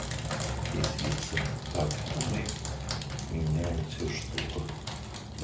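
Water runs from a leaking mixer faucet while its cartridge is being unscrewed, a steady splashing flow with faint metallic handling noises.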